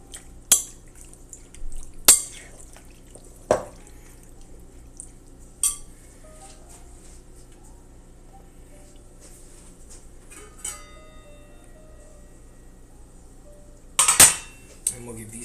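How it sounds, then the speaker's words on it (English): Food thawing in a pot on the stove gets a final stir, with scattered metallic clinks and scrapes of a utensil against the pot, a few sharp knocks separated by quiet gaps, near the microphone. "We're going to get back to stirring these guys up one last time."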